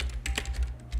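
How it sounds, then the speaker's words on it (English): A few quick keystrokes on a computer keyboard, soft close clicks over about a second against a low hum. "I'll just type it in."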